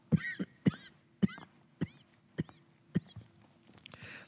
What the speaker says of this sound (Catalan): Disculpeu la tos.